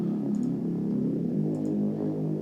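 A synth tone played through a Respace reverb plugin with a low cut sounds thin and roomy, with no deep bass. It sustains smoothly, with a faint pitch shift partway and soft clicks near the top.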